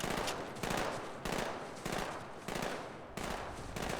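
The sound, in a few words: gunfire from enemies, video game Halo 2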